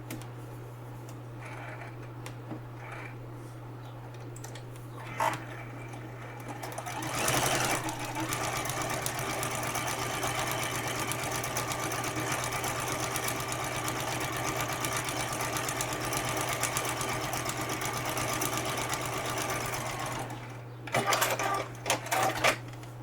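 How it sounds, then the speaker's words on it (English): Domestic sewing machine stitching the first seam of a paper-pieced quilt block, running steadily for about fifteen seconds in a continuous whirring rhythm with a constant low hum, then stopping, followed by a few short bursts and handling clicks. "We're going to go ahead and sew this first seam."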